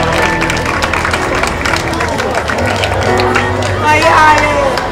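A live audience at the Italian Star Pozzuolo 2010 event applauds in a steady wash of clapping that lasts throughout, with a presenter talking over it.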